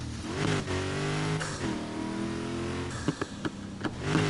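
A Porsche's engine revs steadily in the Need for Speed racing game, its pitch rising and falling through gear changes, followed by a few short clicking bursts near the end; no voices.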